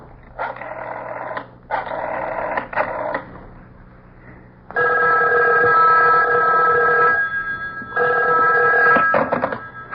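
An old-style telephone bell rings in bursts with short gaps between them, loud and close, with a steady electric hum running underneath and no voices.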